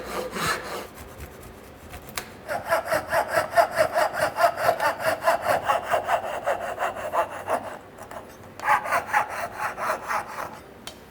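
A hand saw cuts off a wooden mitre for a mitred dovetail joint, with a pause before a long run of quick, even rasping strokes, then a brief break and another burst of strokes, close and clear.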